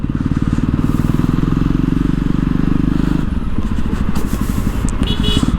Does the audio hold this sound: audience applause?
no